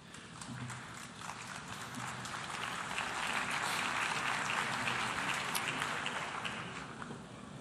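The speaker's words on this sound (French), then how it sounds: "Je vous remercie pour vos applaudissements" Audience applause at the United Nations, a dense sustained clapping from a large hall that swells to a peak in the middle and then slowly tapers, heard alone without speech.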